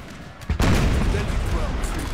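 Cannon fire from artillery batteries during the Battle of Waterloo in the video game Napoleon: Total War: a sharp boom followed by a dense, sustained rumble of volleys, with someone talking over it.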